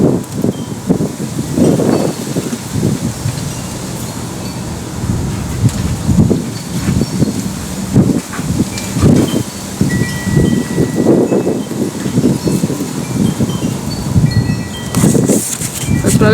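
Wind blows outdoors in uneven gusts, rustling and buffeting close to the microphone for the whole stretch, with no one speaking.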